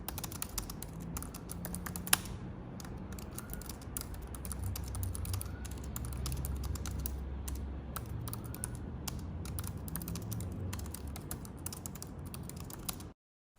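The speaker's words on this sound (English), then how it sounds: "Moving on to the keyboard, the one on the 2015 MacBook Pro is pretty good." Someone types steadily on the keyboard of a 2015 13-inch MacBook Pro, producing a rapid stream of soft, close key clicks that runs continuously before stopping abruptly.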